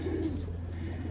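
Pigeons cooing at a Lucknow pigeon market, a steady low murmur of close coos over a constant background hum, with no talk.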